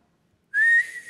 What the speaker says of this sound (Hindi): ये क्या है, सीटी?